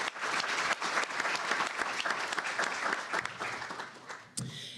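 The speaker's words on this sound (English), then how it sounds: "So let's give a round of applause" Audience applause at a state education legislative conference panel: a dense, steady wash of clapping for about five seconds that thins near the end, then one last short burst.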